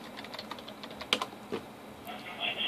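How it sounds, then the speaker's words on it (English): Computer keyboard keys tapped lightly over a hissy background, a few soft clicks with one slightly sharper press standing out, fairly quiet and close. "Now press the Enter from your keyboard."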